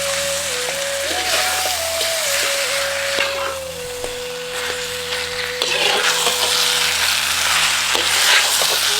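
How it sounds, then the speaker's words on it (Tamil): Chicken frying and being stirred with masala and yogurt for Malabar chicken biryani, a steady loud sizzle with scraping stirs throughout, no talking. "சேர்த்துக்கிட்ட கறியை மசாலாவோட நல்லா பெரட்டி விட்டுட்டு 4 தேக்கரண்டி தயிரையும் சேர்த்து நல்லா கலக்கி விட்டுருவோம்"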